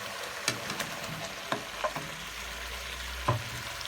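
Fried potatoes are stirred into spiced masala in a pan over a medium flame, a faint, quiet sizzle punctuated by several sharp spatula knocks and scrapes against the pan.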